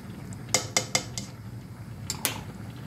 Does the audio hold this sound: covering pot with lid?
yes